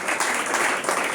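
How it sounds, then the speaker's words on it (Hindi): A church congregation claps in thanks to God during a sermon, producing a brief, dense, even wash of many hands clapping together at moderate loudness. "ताली बजाकर प्रभु को धन्यवाद।"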